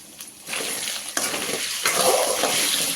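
Marinated paneer is stirred in a pan over high flame, giving a continuous, close frying hiss with scraping and clattering stirs that grow denser and louder toward the end.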